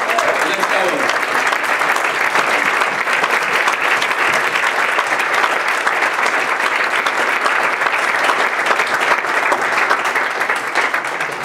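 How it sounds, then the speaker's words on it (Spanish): Sustained applause from a large church congregation, steady and loud throughout with dense clapping and no pauses. "¿por qué no le damos un aplauso al Rey en esta hora?"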